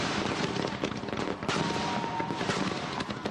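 Gunpowder fireworks go off in a dense crackling barrage, sharp bangs and pops tumbling over one another loud and close for a few seconds.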